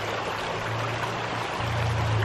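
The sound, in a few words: water flowing as ram pump valve is pushed to fill pipe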